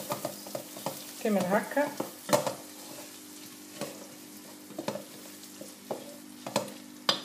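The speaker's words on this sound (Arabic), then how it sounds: "انا نقلي التشيشة باش من بعد ما تتحلش" Tchicha (barley grits) frying in a pan for a cauliflower dish gives a steady close sizzle, broken by irregular scraping stirs and clacks of the utensil, with a brief spoken phrase partway through.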